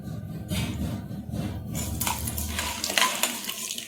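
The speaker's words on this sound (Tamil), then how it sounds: "இப்போ நம்ம கடுகும் வெந்தயத்தையும் போட்டுடலாம்." Mustard and fenugreek seeds drop into hot oil in a pan, giving a close rattle and scattered crackling and popping over a low sizzle, with metallic clinks from utensils.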